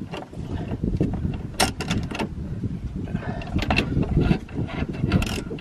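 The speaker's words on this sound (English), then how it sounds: "I hold the ratchet, I hold the screwdriver and the eye bolt to hold it, and then I tighten it." A ratchet wrench tightens a lock nut on an eye bolt while installing a four-point harness in a Kawasaki KRX 1000, producing dense, rapid clicking close to the mic, continuous across the clip with brief sharper clacks.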